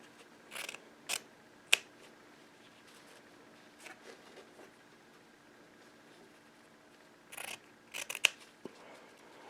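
Scissors with a slightly dull point snip through fabric while draping a front bodice, a handful of quiet, separate crisp cuts spaced across the span with near silence between them, no voices.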